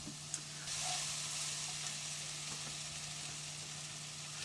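Okra stirred into a hot pan for a shrimp and rice dish, a continuous close sizzle over a low hum, with a brief tap of the spoon near the start and no talking.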